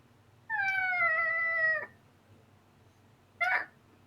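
A woman imitates a cat, giving a long sustained meow followed after a pause by a short second mew, close and clear over quiet room noise.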